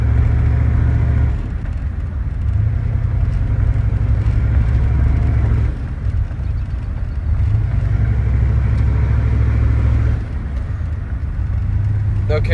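A 1993 Chevy 1500 turbo diesel truck cruises steadily with a loud, continuous engine rumble and drone, the low tone dipping briefly a few times as the load changes, heard from inside the cab.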